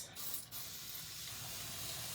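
Several pumps of cleaning spray misted onto a craft tray, a broad steady hiss that starts with two short bursts and then continues as a lingering spray close to the microphone, with no talking.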